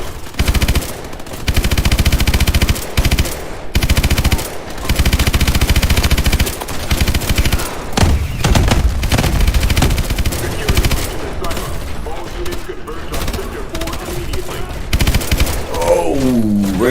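Sustained, loud machine gun bursts from the game Call of Duty Advanced Warfare rattle almost without pause through the whole stretch, with short gaps between volleys and game voices partly mixed in.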